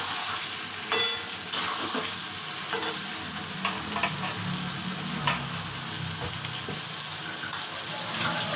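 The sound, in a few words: potatoes frying with sesame paste in a pan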